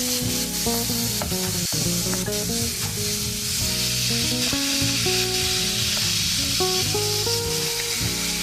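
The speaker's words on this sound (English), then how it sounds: "you can begin to add in your ground beef" Ground beef sizzling loudly in a pan with onion and garlic, a dense, continuous crackling hiss with scraping stirs, close and steady throughout.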